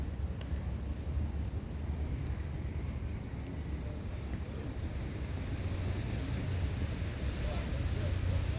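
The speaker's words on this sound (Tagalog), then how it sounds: "Ang lakas ng hangin ay oh." Strong wind at the Botanic Garden in Sydney, a constant heavy rush and microphone buffeting that fills the whole stretch and swells slightly toward the end, with people talking faintly beneath it.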